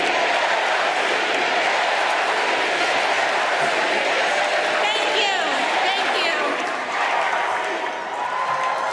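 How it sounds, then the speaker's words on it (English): Large crowd at a political convention in Chicago applauding and cheering loudly and continuously, a dense roar with a speaker's amplified voice heard faintly over it. "Well, she's getting way more applause."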